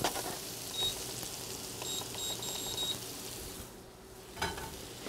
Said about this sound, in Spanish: unas 2 onzas de mantequilla aproximadamente para empezar a cocinar el ajo, los chalotes y los hongos, champiñones.